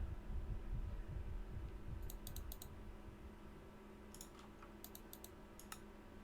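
A faint, low heartbeat thumps steadily in Minecraft, clearest in the first couple of seconds, while scattered keyboard clicks sound over a soft hum.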